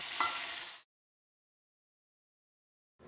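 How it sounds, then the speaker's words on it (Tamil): A short burst of sizzling as almonds and cashews fry in ghee for a porridge, lasting under a second before cutting off into silence. "இந்த பாதாம் முந்திரி நல்லா நெய்யில் வதங்கட்டோன்னு"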